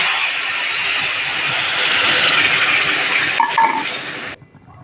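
Water pours into a pot of dalia khichuri with turmeric and salt, a steady rushing splash near the mic that runs for about four seconds and then stops sharply.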